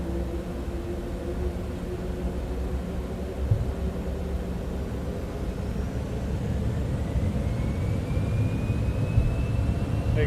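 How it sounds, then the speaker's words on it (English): Airliner jet engines spooling at takeoff thrust in MSFS 2024, a loud steady roar with broadband rush and a slowly rising whine that builds over the run, continuous and close with no talk. "Takeoff thrust is set."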